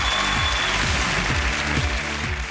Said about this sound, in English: give them a massive round of applause